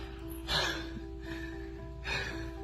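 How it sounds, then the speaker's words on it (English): Heavy, rasping breaths come in three loud bursts over a steady low hum, close to the microphone with no talk. "What are you doing all that heavy breathing for?"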